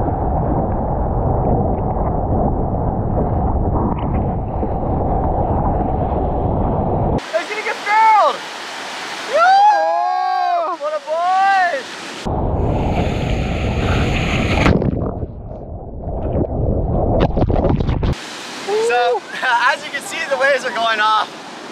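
Ocean waves break at a California surf spot, a loud, roaring wash of surf that comes in long stretches and is cut by bursts of music.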